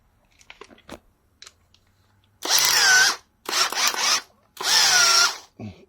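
A Makita 8443D cordless drill runs in first gear, set to drill mode and on a weakening battery, in three close, loud bursts, each about half a second to a second long, with a whining pitch that rises and then falls. Faint clicks fill the gaps between bursts.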